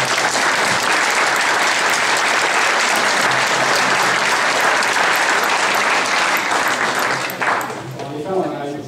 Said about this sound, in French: en demandant d'applaudir Michel